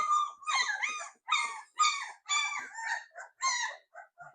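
Several Labrador Retriever puppies whimper and squeal in high, wavering cries, close and loud in a rapid run of overlapping whines with short pauses, with no talk.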